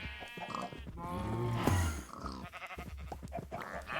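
Sheep in the video game Minecraft (Stoneblock 4 modpack) bleat repeatedly and close by, several wavering calls overlapping in a busy farm scene alongside other animal grunts.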